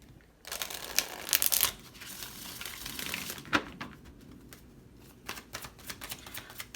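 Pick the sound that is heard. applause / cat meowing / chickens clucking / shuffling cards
shuffling cards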